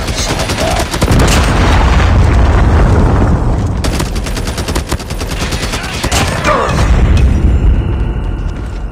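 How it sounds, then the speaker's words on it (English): Predator missile strikes and gunfire in Call of Duty, loud booming blasts and rapid bursts of automatic fire crackling throughout, with heavy impacts around the start and middle and a dense, close battle din. "Hostile predator missile inbound."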